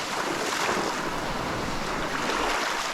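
Ocean surf washing onto a tropical beach at Cape Tribulation, a steady broadband roar of waves mixed with wind buffeting the microphone, continuous and fairly loud with no talk.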